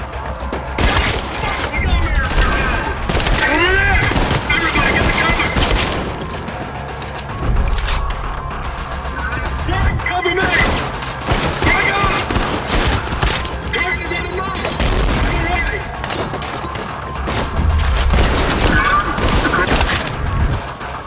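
Pistol gunfire in the Trepang2 first-person shooter, rapid sharp shots in bursts alongside crashes and booms of combat, loud throughout with a voice talking over it.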